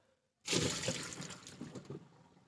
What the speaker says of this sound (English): my cauliflower is now ready to go into the strainer